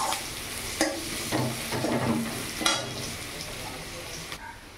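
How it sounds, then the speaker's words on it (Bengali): Chopped onions fry with salt in a pan while being stirred, a steady close sizzle broken by several sharp scraping clatters of the spatula, with no talking. "পেঁয়াজটা একটু ভাজা ভাজা হয়ে যাক।"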